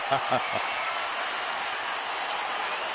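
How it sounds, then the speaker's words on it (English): Evening baseball crowd at a Giants–Astros game rising to applaud, a steady wash of clapping filling the ballpark, with a few louder claps near the start and distant voices mixed underneath. "Now they're up and applauding on a Friday night."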